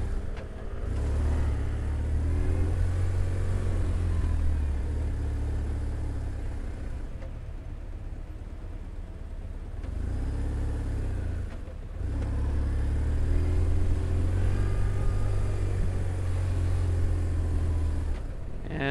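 Motorcycle riding through city traffic in Medellín, a continuous engine drone with road rumble that dips and swells as the rider slows and pulls away, no talk over it.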